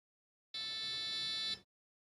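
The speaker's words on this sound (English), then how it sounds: "it only beeps once when resetting the board" An Arduino buzzer gives a single steady electronic beep lasting about a second, clean and isolated with silence before and after.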